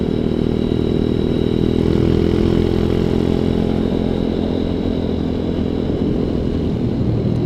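A ZS190 Grom clone motorcycle cruises along a road, its engine droning loud and close with a steady buzzing note, constant rumble and wind, no voices.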